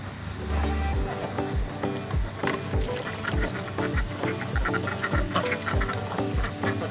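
Ducks quack steadily in a rapid, rhythmic series over a busy, noisy outdoor background, fairly close, with no clear talking.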